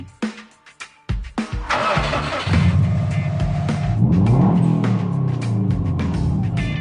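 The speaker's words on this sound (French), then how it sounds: "Une japonaise facilement identifiable par le bruit de son moteur." A powerful 350-horsepower Japanese sports car starts up with a few sharp clicks and cranks, then its engine catches and revs loudly before holding a rough, rising drone.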